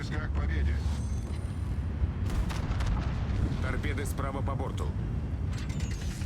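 Battleship main guns firing shells in World of Warships, a Sibir Tier X Soviet battleship, give deep booming blasts and rumbling over a dense, continuous battle din, with a voice talking over the top.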